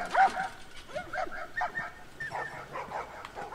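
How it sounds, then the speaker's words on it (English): Several dogs barking and yipping in The Last of Us Part 2, a run of short, fairly close barks and whimpers at mid loudness with faint background chatter. "Dogs."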